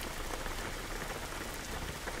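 Rain falling in the driving video game Jalopy, a dense, even hiss of drops on surfaces that holds steady throughout with no voices.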